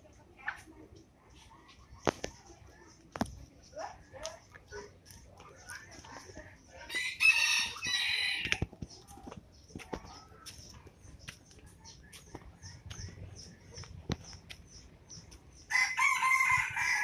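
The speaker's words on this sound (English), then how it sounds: "The chicken coop." Rooster crowing and hens clucking at a chicken coop, with short cluck bursts scattered through and two louder crowing spells, one midway and one at the end, faint voices under it.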